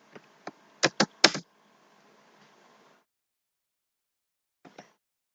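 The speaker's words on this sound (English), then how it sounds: "you type in chronos login" A few quick computer keyboard keystrokes while a login is typed in, clustered in a short burst near the start and followed by one faint tap later, close and clear against near silence.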